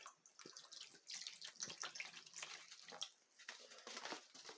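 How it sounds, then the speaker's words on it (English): Clean water pours and splashes steadily into a container during gold-panning cleanup, a continuous bright gurgling stream with small fluctuations, close by and with no talking. "gonna pour some new clean water in here"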